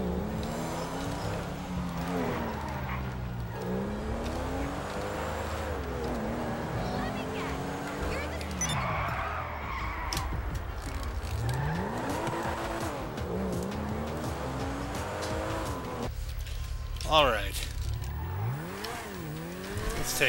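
A Porsche in GTA 5 revs and whines through rising and falling engine pitches, with tire squeals and skids along the way, loud and close. A voice speaks now and then over the engine.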